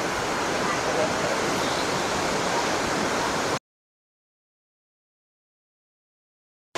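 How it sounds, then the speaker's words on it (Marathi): Dhuandhar waterfall at Bhedaghat, Jabalpur, roars as a loud, unbroken wash of rushing water for about three and a half seconds, then cuts abruptly to silence before a brief return at the very end. "खूपच सुंदर धबधबा आहे।"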